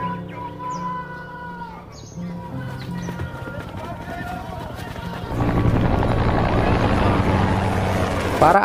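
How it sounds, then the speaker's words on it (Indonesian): Two police helicopters arrive in a Pablo Escobar crime film, a rising rotor roar that swells to a loud, dense wash of engine and blade noise in the second half over film music. "Tiba-tiba, 2 helikopter kepolisian muncul dan hendak menangkap Pablo"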